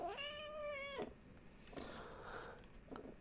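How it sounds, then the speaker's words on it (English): A cat sitting on a person's lap gives one long, clear meow, followed by a few softer, shorter murmuring calls, close by and quiet. "it sounds like the cat on my lap agrees with me"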